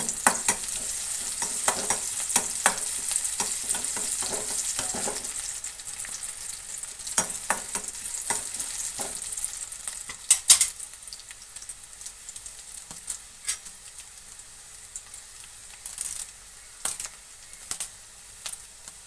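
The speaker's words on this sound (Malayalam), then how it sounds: "ഉള്ളി മൂപ്പിച്ചിടുമ്പോൾ അതിന് വേറെ ടേസ്റ്റ് ഉണ്ട്" Onions frying in oil sizzle steadily while a spoon stirs them, scraping and clicking against the pan in irregular bursts that thin out over the second half.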